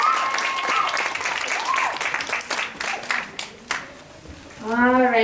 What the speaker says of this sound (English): Let's give Samantha and Liz a big round of applause for sharing with us today.